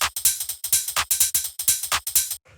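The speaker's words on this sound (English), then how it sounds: "we have like the shaker and the tambourine layer together doing like tick, tick, tick." Shaker and tambourine layered together in a deep minimal house groove, tapping out a quick, even run of bright ticks that repeats steadily without any voices.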